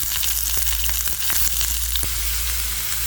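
Onions frying in oil in a pan after curry leaves and garlic, for a village-style brinjal tamarind curry, give a steady loud close sizzle with small crackles throughout, with no talk.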